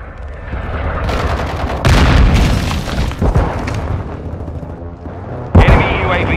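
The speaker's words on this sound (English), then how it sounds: "Friendly airstrike on the way" Heavy booming explosions from an airstrike in Call of Duty Warzone 2.0, several loud blasts and rumbling impacts spread across the stretch, mixed with scattered gunfire and a radio voice.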